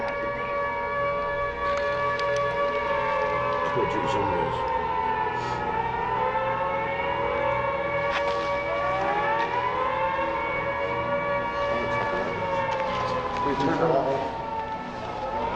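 A loud air raid siren wails continuously inside Talgarth Asylum, its pitch slowly rising and falling, with a person talking briefly over it.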